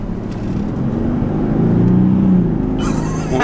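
A Toyota Land Cruiser 300 accelerates under throttle, its engine rumbling and rising steadily from inside the cabin, ending with a brief rustle.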